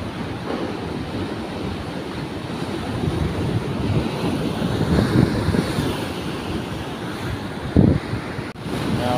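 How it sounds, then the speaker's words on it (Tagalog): Strong low-tide ocean surf rumbles continuously while fishing, with heavy wind noise buffeting the microphone. "Lakas ng alon."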